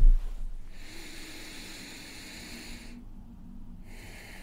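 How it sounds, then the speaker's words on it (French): Deep breaths during a yoga breathing exercise: a strong airy inhale or exhale at the start, then a long soft breath fading out, a pause, and another breath beginning. "Je vais vous proposer simplement de prendre 3 grandes respirations."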